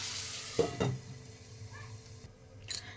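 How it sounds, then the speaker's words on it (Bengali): Potatoes and pea pods fry in a pan and are stirred, with a few quick scraping knocks early and another near the end over a faint, continuous sizzle. No one speaks. "দিয়ে আবারও আমি ভালো করে নাড়িয়ে নেব দুটিকে"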